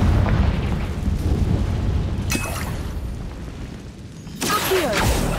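A spell explosion in the Hogwarts Legacy video game: loud, dense rumbling blasts with sharp cracks at the start and again near the end, no talking, over a continuous roar of game noise.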